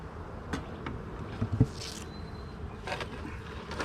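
Honeybees buzzing around an opened hive during an inspection, a continuous close drone with single bees zipping past and a few light knocks of the hive being handled.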